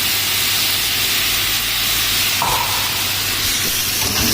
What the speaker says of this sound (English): So you just add here your chili.